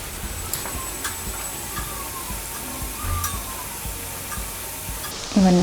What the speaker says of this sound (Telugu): ఇవన్నీ కొంచెం గోల్డెన్ బ్రౌన్ కలర్ వచ్చేంత వరకు లో ఫ్లేమ్లో పెట్టి ఫ్రై చేయాలి.